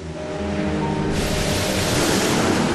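Powerful ocean waves crash against a rocky coast in a loud, continuous roaring surge that swells stronger partway through and stays dense to the end.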